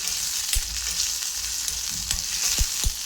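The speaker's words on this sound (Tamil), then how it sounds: "பிரண்டையை நல்லா எண்ணெயிலேயே வதக்கிடணும்." Pirandai (adamant creeper) frying in oil in a pan, a bright crackling sizzle with several sharp knocks and scrapes of stirring, close and fairly loud.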